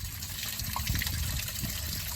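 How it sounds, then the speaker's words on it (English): Hose water gushes out through the intakes on the bottom of a Volvo Penta Gen 5 V8 or V6 boat outdrive, a steady close-up splashing rush with no talk. "As you can see, water is coming out the intakes on the bottom of the outdrive."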